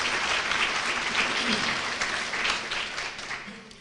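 Audience applause at the 2019 GOAL, EAGLE and Rick Perkins award luncheon: a sustained round of clapping from a seated crowd that slowly tapers off, with faint voices mixed in.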